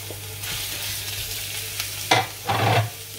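Meat drops into a hot pan of melted onions and starts frying, a steady hiss and sizzle with scraping stirs that flare louder in short bursts toward the end.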